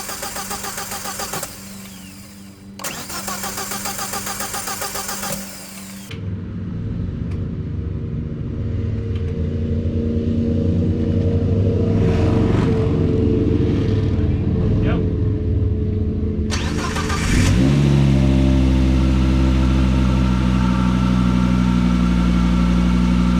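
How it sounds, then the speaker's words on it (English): A turbocharged car engine, its turbo machined to take a massive 7+7 compressor wheel, cranks and fires into a loud, close rumbling idle, then revs up sharply toward the end. "then we'll fire it up and hopefully nothing bad happens"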